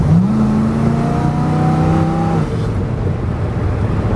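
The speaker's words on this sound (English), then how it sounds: "you can hear some intake noise from that shaker hood" A 1979 Pontiac Trans Am 6.6-litre engine revs up with a rising whine and a breathy intake hiss from its shaker hood, then drops back to a rough, steady idle. No talking.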